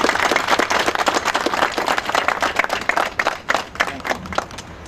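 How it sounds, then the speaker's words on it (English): Audience applause at a press conference on legislative redistricting, a steady burst of many hands clapping close by, sustained for several seconds and easing slightly toward the end. "Let's give him a round of applause."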